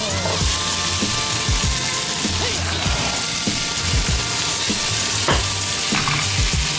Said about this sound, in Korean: 당근을 넣은 뒤부터는 센 불에 강하게 볶아주시면 됩니다